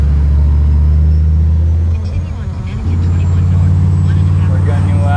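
A 6.5 diesel Chevrolet Suburban drives along with a steady, loud low rumble and engine drone, dipping briefly midway before holding constant again; speech is faintly present under the engine noise.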